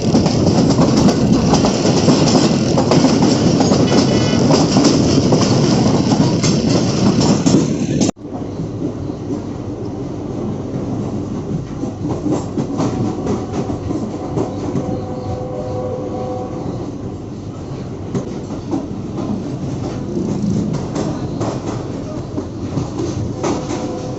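Wheels of the 15Up Karachi Express clatter over the rails while departing Drigh Road station, loud at first, then a sudden drop to a steadier, softer rumble with faint rhythmic clicks; no talking.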